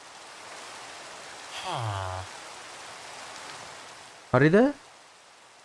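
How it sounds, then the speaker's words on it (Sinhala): Rain in the Minecraft video game falls as a steady, even hiss throughout, with a couple of brief spoken phrases rising over it. "දැන් ෆ්‍රෙන්ඩ්ස් වහිනවනේ"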